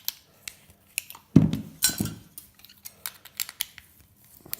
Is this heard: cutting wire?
yes